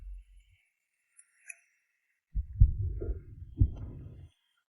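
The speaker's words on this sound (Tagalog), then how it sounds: "Mabilis ang tibok ng puso ko." A heartbeat sound effect of deep low thumps, with a soft beat early on and then a louder run of throbbing pulses, heard alone without speech.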